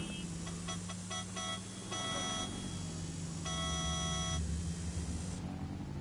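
Electronic beeps from the Watch Dogs Legion video game, a series of short, clear repeated tones in quick bursts followed by longer sustained beeps over a low game-engine hum.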